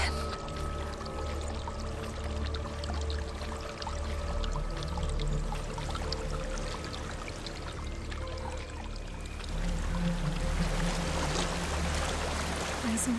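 Water flowing steadily in Hellblade: Senua's Sacrifice, a continuous pouring rush that grows brighter and louder toward the end, layered with droning ambient tones.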